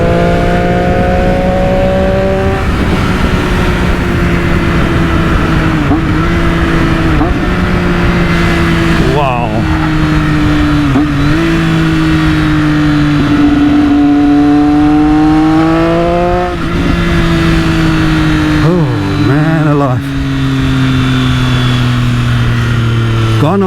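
A 2020 Triumph Daytona 765 Moto2 edition motorcycle's three-cylinder engine runs loud and steady, its tone rising and falling through several revs over a long stretch, with a voice speaking over it.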